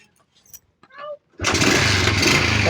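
Fury 125 motorcycle engine catches and starts after brief cranking sounds and a few spoken words, then settles into a loud, steady close-up running rumble.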